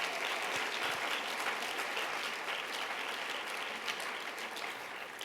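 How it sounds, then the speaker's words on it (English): An audience applauds the consortium members at the Open Engagement 2016 gathering with a full, continuous roar of clapping that stays strong, then eases slightly toward the close, with no speech over it. "big hand of applause to the consortium members"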